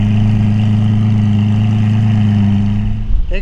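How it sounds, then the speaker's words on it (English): Lamborghini Aventador engine idles loud and close through its exhaust, a deep steady drone that cuts off near the end as a voice begins. "That is an amazing exhaust sound."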